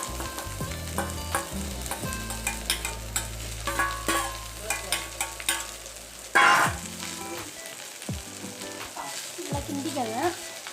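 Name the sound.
stir-frying bitter gourd in a pan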